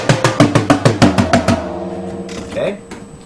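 Beginner drum roll of sixteen evenly spaced hits moving from snare across three toms, loud and close, the pitch dropping in steps as it descends, then ringing out with faint residual noise.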